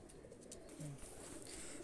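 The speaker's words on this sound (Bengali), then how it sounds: "এই একটা স্কুলওয়ালা গোল্ডেন কবুতরের বাচ্চা" A golden pigeon chick gives one faint, short low coo in the middle of a quiet, hissy background, with no voices.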